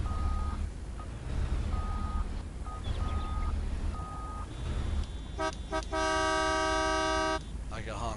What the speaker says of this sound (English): He's gonna honk at me.